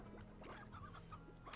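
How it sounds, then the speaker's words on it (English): Chickens in the farming game Slime Rancher cluck in short, repeated calls over a steady low game hum, fairly quiet and close. "So we have a bunch of chickens, which is okay."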